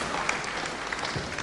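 Dense, steady applause from a wrestling-bout crowd fills the short moment, clapping loud and continuous throughout.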